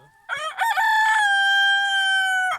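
A bearded breeding rooster crows once, loud and close, a long drawn-out harmonic call that holds steady for about two seconds before cutting off.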